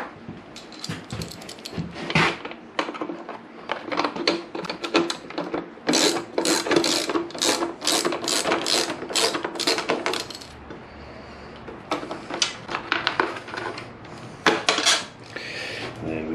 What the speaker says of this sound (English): so what I need to do is grab the ratchet